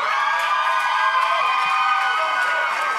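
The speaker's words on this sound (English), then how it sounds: "Clap your hands for her." A church congregation cheers and shouts in a steady wash of crowd noise with faint clapping mixed in. It holds fairly loud and even for about three seconds.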